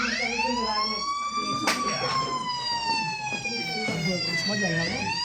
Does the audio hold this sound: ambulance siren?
yes